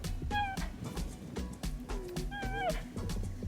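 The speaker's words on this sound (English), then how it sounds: "Oh, you're so cute. You kind of meow." A cheetah in Namibia gives two high, chirping meow-like calls, close and clear over a low rumbling background, while a person talks softly nearby.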